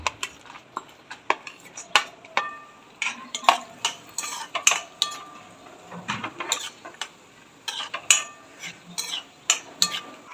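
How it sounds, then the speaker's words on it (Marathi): Pistachios being dry-roasted in a pan for dried-fruit laddoos, stirred constantly with a metal spoon, giving repeated sharp clinks, rattles and scrapes against the pan in an uneven rhythm, close and distinct, with faint sizzle beneath. "पिस्ता पण छान भाजून घेऊया"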